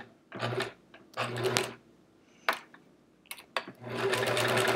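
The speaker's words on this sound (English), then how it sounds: "I'm sewing all the way up to the edge, or where I started." A sewing machine stitches a quilt label, running in several short bursts of rapid mechanical clatter with brief pauses and clicks between them, close and moderately loud.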